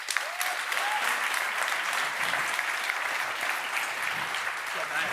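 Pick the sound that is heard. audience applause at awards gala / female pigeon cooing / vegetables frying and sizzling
audience applause at awards gala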